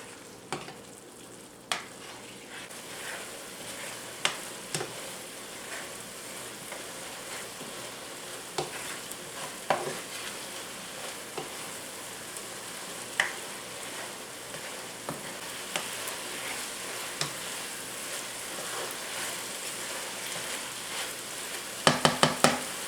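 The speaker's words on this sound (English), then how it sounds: "Turn the heat up to high and stir for about 2 minutes until the liquid is mostly gone." Mabo curry stirred in a pan over high heat, with a steady loud sizzle and frying crackle throughout, scattered clicks and scrapes from the utensil, and a quick cluster of sharp knocks at the end.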